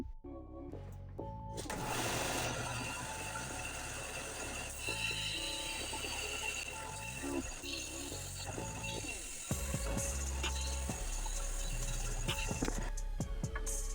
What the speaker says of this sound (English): It's just kind of a pain with the scroll saw because the blade goes up and down instead of all the way down like a bandsaw.